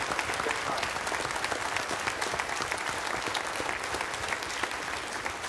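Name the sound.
church congregation applause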